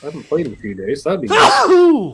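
A person speaks briefly and then lets out a single loud, close sneeze with a sharp intake and burst.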